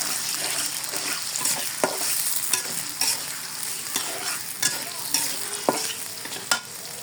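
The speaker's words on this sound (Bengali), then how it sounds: "তেল দিয়ে দিছি, আমি নাড়াচাড়া দিয়ে দিই" Cardamom and cinnamon fry in hot oil with a bright, steady sizzle while a spatula stirs them. Regular knocks and scrapes on the pan recur every second or so, close to the microphone.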